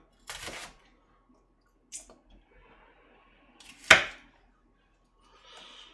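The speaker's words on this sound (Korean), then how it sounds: "짜장 볶을 때 쓸 거는 그냥 이렇게 채 썰어도 되고" A knife slices half an onion into strips for jajangmyeon, making a few sharp, isolated cuts spaced apart on a cutting board in a quiet home kitchen.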